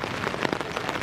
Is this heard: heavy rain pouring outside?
yes